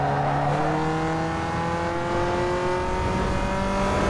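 Modified Peugeot 206 GTi in Need for Speed Underground 2, engine revving up through gears with rising whine, pitch climbing then dropping at a shift and climbing again, loud and close with no talk.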